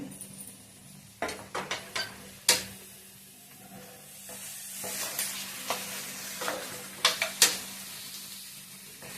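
Chicken fry with tomato, chicken masala and coriander sizzling in a pan, a steady fry hiss broken by repeated clanks and scrapes of the spatula as it is stirred, close and alone.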